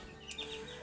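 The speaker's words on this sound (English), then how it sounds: "I was able to catch Mama Chicken and her little brood" A mother hen and her brood of chicks cluck and cheep softly on a farmstead on a hot morning, with a few brief, faint calls over steady background noise.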